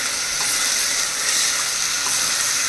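Mutton paya trotters frying in hot oil in a home kitchen, a loud, steady close-up sizzle with no voices.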